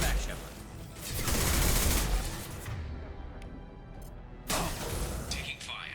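Heavy gunfire in the Mass Effect 2 video game, with dense bursts of rapid shots and sharp cracks, an early loud volley followed by a calmer stretch and another sudden burst near the end.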